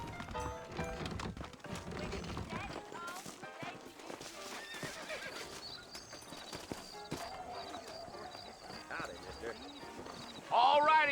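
Saddled horses clip-clop steadily in Red Dead Redemption, with hooves and an occasional whinny under ongoing talk and music, and a louder burst near the end.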